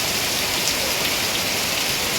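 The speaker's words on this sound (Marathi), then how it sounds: "आता मस्त पाऊस सुरुवात झाली आहे" Steady rain falling, a dense, even hiss of drops on surfaces, fairly loud and unbroken throughout.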